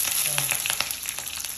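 Fenugreek, mustard seed and green chili fry in hot coconut oil in a clay pot, giving a close, steady sizzle with sharp popping crackles scattered through it.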